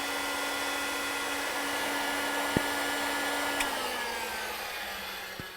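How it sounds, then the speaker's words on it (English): A heat gun shrinks heat-shrink sleeves during a GE defrost thermostat replacement, giving a steady, loud blowing roar that holds for several seconds with a slight shift in pitch and a couple of faint clicks. "So next I'm going to use a heat gun, and we're gonna shrink those sleeves."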